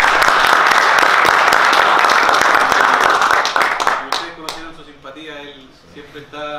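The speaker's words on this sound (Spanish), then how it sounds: "un aplauso a Jason" Audience applause for a guest speaker named Jason at a talk on ignition systems, a dense, loud crowd clapping that holds steady for about four seconds, then thins into scattered claps and fades as voices take over.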